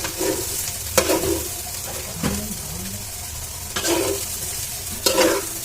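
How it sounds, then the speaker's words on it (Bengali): Rice and lentils fried with turmeric, cumin and coriander for khichuri in a home kitchen, giving a steady low sizzle broken by four or five louder bursts of stirring and scraping. "আমাদের চাল ডাল সব ভাজা হয়ে গেছে"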